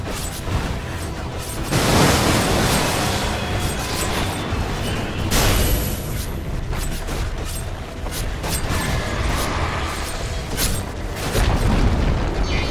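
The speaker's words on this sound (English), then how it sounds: "Dire's middle tower has fallen." A Dire middle tower collapsing during a Dota 2 match, with loud rumbling booms and crumbling impacts rolling through a dense, sustained wash of game noise and battle effects.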